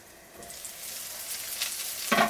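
Eggplant rings stuffed with chicken and glass noodles frying in vegetable oil in a pan: a steady hissing sizzle that grows louder, ending with a brief burst of crackling.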